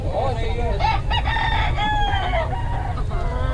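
Chickens cluck and crow in a farmyard, with a rooster's drawn-out call over a low rumbling background and faint voices.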